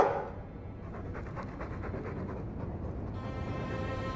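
A Mabari war dog in Dragon Age II pants in a steady rhythmic run of breathy huffs, close and moderately loud, with no talk over it.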